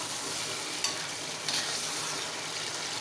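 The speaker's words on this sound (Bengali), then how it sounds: "আর এখানে আমি সব মশলা দিয়ে কষিয়ে নিয়েছি।" Chicken curry frying in a pan with spices, stirred steadily; a constant close sizzle with two brief scraping bumps from the spoon, no talk.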